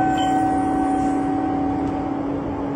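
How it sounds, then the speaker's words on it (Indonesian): An LRT Jabodebek train runs between Dukuh Atas and Jatimulya, making a steady, even drone with a constant low hum and a faint whine, heard from close by. "naik LRT dari Duku Atas tujuan Jatimulya"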